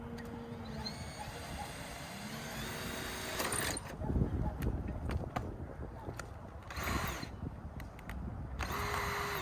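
A power drill drives screws into a roof, several short whirring bursts rising and stopping over an outdoor background hiss, fairly close.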